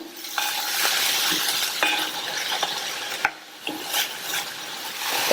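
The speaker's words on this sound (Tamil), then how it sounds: "இந்த ஸ்ப்ரிங் ஆனியனும் ஒரு 2 நிமிஷம் வதங்கட்டும்." Spring onion greens and a piece of tamarind sauté in a pan for a chayote chutney, a soft steady sizzle under frequent close scraping and clinking of a spoon against the pan.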